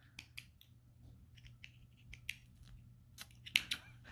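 Small craft snips trimming loose yarn ends on a knit pillow cover, giving a few faint, sharp snipping clicks spaced irregularly, with a quicker double snip near the end.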